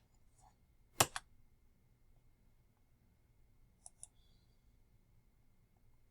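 A few sharp computer mouse clicks and keyboard key presses: a quick double click near the start and another faint pair later, each isolated against a quiet room hum with no talking.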